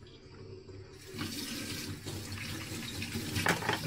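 Tap water runs steadily into a kitchen sink while potatoes are peeled under the stream, starting after a brief quiet moment, with splashes and small clatters on top.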